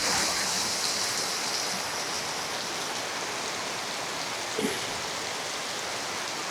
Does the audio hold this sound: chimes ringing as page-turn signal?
no